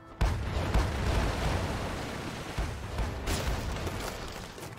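Front cannons fire in the naval sailing game Sailing Era, several muffled booms spread over a few seconds amid a rumbling battle din, fairly quiet overall, without talking.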